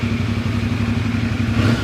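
2025 CF Moto 450 NK motorcycle idling up close, a loud, steady, throbbing engine pulse with a mechanical clatter and no talking.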